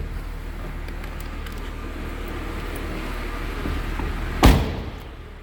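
A 2003 Mercedes-Benz SLK32 AMG engine idles with a steady low rumble, followed by a single sharp thud near the end.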